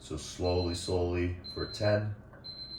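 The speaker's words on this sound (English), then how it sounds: "that's our alarm." Short repeated high electronic beeps from an alarm timer sound during a yin yoga class, three spaced pulses under and between a calm instructor's speech.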